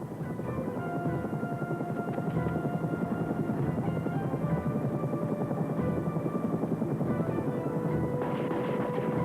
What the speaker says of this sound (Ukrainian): Вертоліт з Брайтмору.